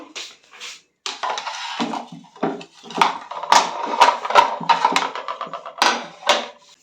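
Ceramic plates clatter and knock together in a home kitchen, a run of sharp, close, irregular clinks and scrapes after a brief pause, with no one talking.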